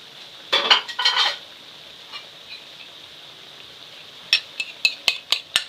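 Fish going into a hot pan for Filipino sarciado, a loud clattering, sizzling splash with utensil scraping, then a quieter gap and a run of sharp metallic clinks and taps against the pan.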